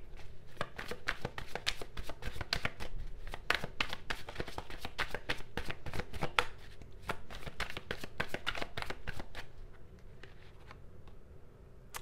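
Tarot cards are shuffled and drawn by hand, giving rapid close riffling clicks and taps that run busily before thinning into quieter, sparser handling near the end.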